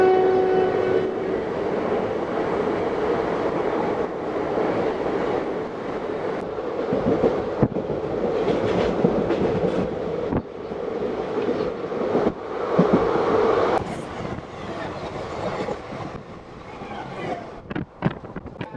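A Guntakal–Tirupati passenger train runs on rails near Anantapur, giving a loud, steady rumble of wheels and carriages throughout, with a few sharp clanks and knocks toward the end.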